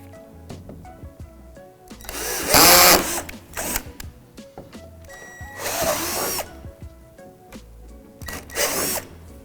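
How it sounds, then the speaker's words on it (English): A power drill whines through several loud bursts into the plastic slide of a Lifetime Adventure Clubhouse swing set, each a few seconds long, separated by quieter handling noises and clicks. "Flip the slide over and drill 3 holes in the spots indicated."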